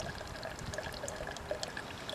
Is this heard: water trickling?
yes